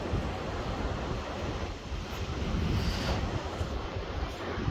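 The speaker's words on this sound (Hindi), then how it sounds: "वो वाटरफॉल है नीचे" Rushing water from a waterfall below a swaying suspension bridge in Nagarkot, Nepal, a steady broadband roar with wind buffeting the microphone, continuous and fairly loud throughout, no talking.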